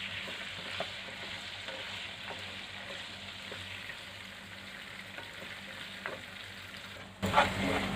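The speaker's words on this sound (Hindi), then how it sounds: "ये देखिए टमाटर वाला मसाला भी हमारा अच्छी तरह भुन चुका है" Tomato masala and fried chicken cook in a kadai for a dhaba-style chicken curry, making a faint, steady sizzle with occasional stirring taps and a louder clatter at the end.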